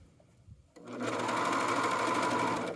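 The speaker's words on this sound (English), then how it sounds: "So I'll sew a little bit or serge a little bit" Serger sewing the sleeve hem of a Kwik Sew K3045 hoodie: faint handling noises, then a sudden steady high whirring buzz that runs evenly and close for nearly two seconds.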